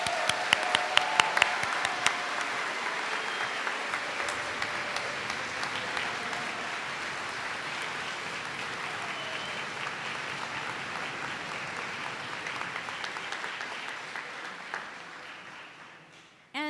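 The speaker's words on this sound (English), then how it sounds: "And a round of applause for our incredible on-doc faculty." An audience at a medical school white coat ceremony applauds the faculty, a dense, sustained round of clapping from a large crowd that holds steady before fading out near the end.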